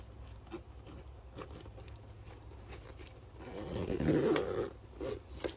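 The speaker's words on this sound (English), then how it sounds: "Slide your zipper pull on." A zipper pull slides along a zipper with a soft, rasping scrape that swells louder midway, close up with no talking.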